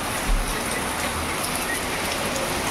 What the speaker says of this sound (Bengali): আরে কি জোরে বৃষ্টি হচ্ছে